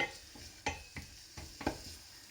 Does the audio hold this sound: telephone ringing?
no